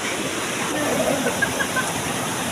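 Steady roar of the Nageshwari waterfall on a trek fills the scene, with faint splashes of people bathing and distant voices mixed into the constant rushing water.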